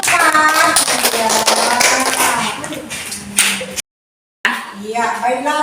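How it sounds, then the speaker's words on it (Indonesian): Clapping from pupils in a school classroom for a student group, a short burst of sharp, close claps and taps with children's voices over it, then a sudden gap of silence and more voices. "tepuk tangan buat kelompok 4"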